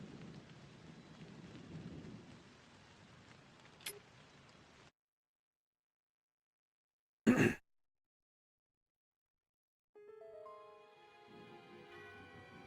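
In The Da Vinci Code PS2 game, steady rain patters with a sudden thunder crack, then falls silent. A brief burst of noise follows the silence, and a different tonal game sound comes in near the end.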